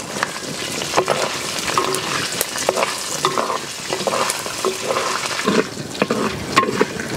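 Green chili pieces fry loudly in hot oil with a busy sizzling crackle and frequent sharp spits and pops, heard close and without any talk.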